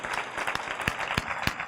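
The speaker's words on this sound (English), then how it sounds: "How about a round of applause for our gubernatorial candidates in Colorado?" A live audience claps for gubernatorial candidates in Colorado at a mental health event, a steady wash of applause with a few sharper individual claps standing out.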